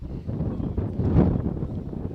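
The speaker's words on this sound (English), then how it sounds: "the wind gusting here at the ballpark" Gusty wind buffets the microphone at an outdoor high school baseball park, a steady low rumble that swells in strength around the middle of the clip, with no talk over it.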